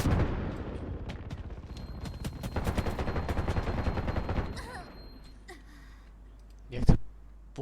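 Gunfire in the video game Undawn: a rapid, dense burst of automatic shots for several seconds that then stops, followed by a softer tail and a sharp breathy sound near the end.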